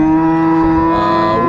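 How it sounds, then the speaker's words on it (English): A cow at an outdoor livestock market lets out a single loud, sustained moo, close and dominant. "So guys, here's where they sell cows"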